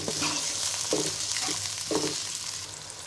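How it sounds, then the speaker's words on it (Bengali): Onions frying in hot oil for a Bengali-style poa fish bhuna, a steady close sizzle with a few soft stirring scrapes at intervals. "এবার পেঁয়াজটাকে ব্রাউন কালার করে ভেজে নিব।"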